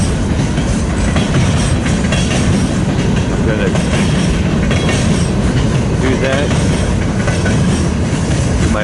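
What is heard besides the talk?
train passing in Fremont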